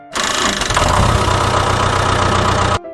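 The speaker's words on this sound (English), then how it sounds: "This is a tractor." A steady, rumbling tractor engine runs close by with a low chugging idle, starting abruptly and cutting off near the end.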